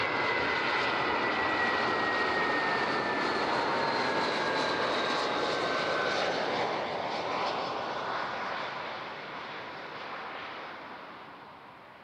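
An airliner lands on runway 14 at Zurich airport, its jet engines roaring loud and near with a whining tone that slides down in pitch, then gradually fades and recedes toward the end.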